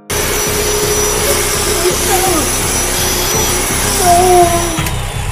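A power cutting machine runs inside a house during a violent home invasion, giving off a loud, steady whining drone with a fast pulsing throb beneath it, and a voice briefly rising over the noise.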